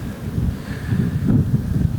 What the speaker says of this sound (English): Windy this morning.